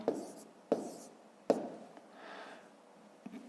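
Pen writing figures on paper during a fifth-grade maths exercise: a few short scratchy strokes with soft taps as the pen lands, close and quiet, with no talking.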